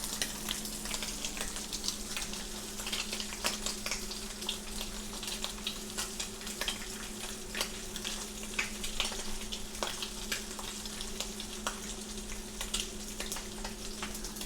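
Bacon sizzles steadily in a pan with the heat just turned off, a constant bed of fine crackle broken by frequent sharp pops, fairly close and unaccompanied by talk.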